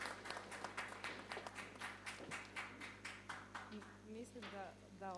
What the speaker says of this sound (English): I think that this applause tells us all.